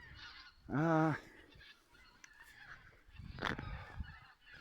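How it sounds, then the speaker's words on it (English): A single loud goose honk rings out nearby, followed by quieter rustling and a fainter second call. "Geese."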